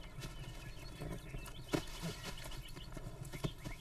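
Wild mustang mare and young foal moving about, with soft clip-clopping hoof steps and rustling, close and steady, with faint snorting and no talk.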